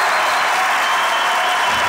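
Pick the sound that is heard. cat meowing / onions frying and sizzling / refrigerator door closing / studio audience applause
studio audience applause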